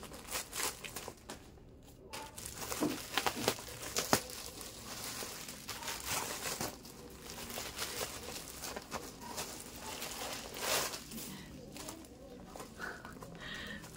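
Parcels being cut open with scissors while bubble wrap packaging crinkles, giving a busy run of close, scratchy rustles and crackles with short sharp bursts and no speech.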